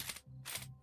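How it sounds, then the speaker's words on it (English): A gun is reloaded in the VR shooter game SURV1V3, heard as two or three quick, close mechanical clacks and clicks in under a second. "I love the reloading in VR."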